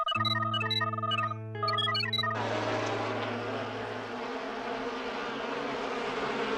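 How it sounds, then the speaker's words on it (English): A steady, dense buzzing hum sets in after a few tonal beeps, like a swarm of insects droning close by without pause. "I mean, they're just bees."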